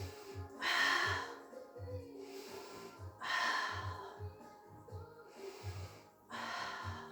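A pilates student on a mat breathes out in repeated forceful exhales, several audible breaths spaced a second or two apart, close and moderately loud against a quiet room with no talk.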